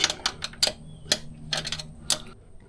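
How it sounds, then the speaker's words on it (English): A sportbike rear axle nut being snugged up by hand with a ratchet during a rear tire change, giving quick clicking ticks in short bursts, close and clear with no talk. "Let's snug up the axle a little bit."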